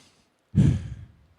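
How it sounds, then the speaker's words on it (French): A person demonstrates their breathing with a single heavy, close exhalation like a sigh that starts abruptly and trails off over about a second, with quiet around it. "Est-ce que tu peux me montrer comment tu respires"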